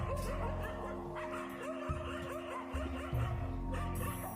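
Many dogs barking and yipping together, a dense, continuous chorus of overlapping barks and whines set as a horror story sound effect, loud and steady throughout.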